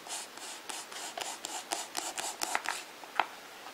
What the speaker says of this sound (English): the first step in this project is to cut up my cork into thin cork slices